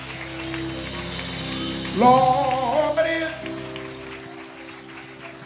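A church congregation claps along under sustained organ-like music, the hand claps a steady wash of noise while a voice sings or speaks over it midway.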